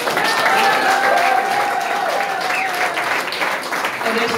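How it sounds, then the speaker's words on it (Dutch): Loud applause from an audience at an award ceremony for two men, a dense, sustained clapping that fills the room for several seconds, with a few voices and tones mixed in. "Dus even heel hard applaus voor deze twee mannen."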